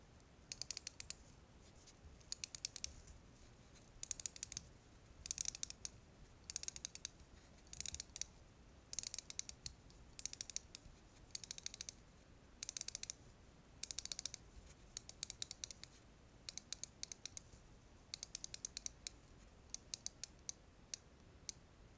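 The bezel of a Seiko SKX011J1 dive watch is being turned by hand, producing a long run of crisp, close metallic clicks in short bursts with brief pauses between them. The clicks sound firm and ratcheting, with no talk.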